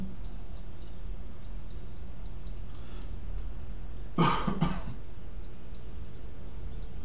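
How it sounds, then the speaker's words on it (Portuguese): A single short cough, with a quick second burst, breaks a quiet room tone, fairly close. "eu tô meio gripado, então desculpa aí a tosse"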